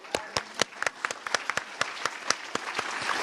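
An audience at a gender and justice panel discussion bursts into applause, sharp claps standing out near and loud, then the clapping thickens and builds toward the end.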